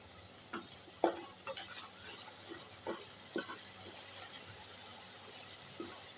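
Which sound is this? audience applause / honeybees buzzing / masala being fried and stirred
masala being fried and stirred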